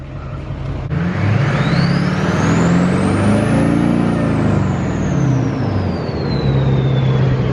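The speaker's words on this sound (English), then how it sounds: "You wanna hear my turbo?" A Duramax diesel truck's turbo spools up with a rising whistle that peaks and slowly falls away, over a loud, close diesel engine rumble.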